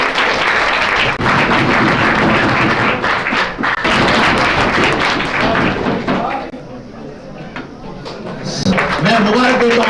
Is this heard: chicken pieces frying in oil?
no